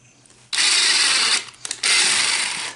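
A power drill drives a screw into drywall to start a hole, running in two loud, steady whirring bursts separated by a short pause with a couple of brief clicks.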